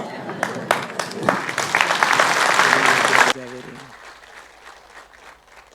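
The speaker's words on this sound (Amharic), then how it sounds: "ጭብጨባ" Church congregation clapping builds for about three seconds, then stops abruptly, leaving a quieter room where a voice carries on.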